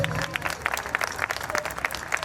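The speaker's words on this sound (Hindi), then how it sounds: "तालियां भाई लोगों प्लीज।" An audience at a Ram Leela stage performance applauds, a steady wash of many hands clapping at moderate distance, sustained throughout with no talk over it.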